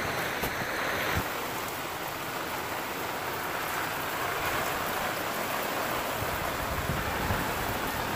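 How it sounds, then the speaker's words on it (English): Steady rain pours down on a rainy day in Gambia, a dense, even hiss of drops close by that runs without pause from start to finish, with no voices. "Today has been raining all day"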